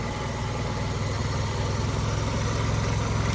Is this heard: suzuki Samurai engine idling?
yes